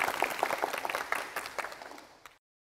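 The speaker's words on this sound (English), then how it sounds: "Everyone, welcome with applause." An audience claps in welcome for an engineer at a training session on laying dam cooling water pipes, a short burst of applause that thins out and stops after about two seconds.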